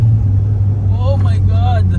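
A Mitsubishi Lancer Evolution 4 with its 4G63 turbo engine runs at a steady, loud, low drone, with voices talking briefly over it.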